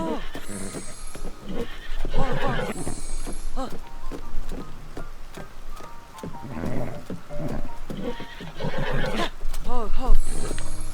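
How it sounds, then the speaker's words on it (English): A horse in the video game Tears of the Kingdom neighs repeatedly with loud whinnies over clip-clopping hooves and game music, while someone talks over it throughout. "Your Dalmatian horse is literally right behind you"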